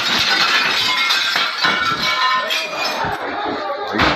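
Glass is smashed during a tense crowd scene at an arrest, with sharp cracking and tinkling shards breaking out amid shouting voices and commotion, loud and close.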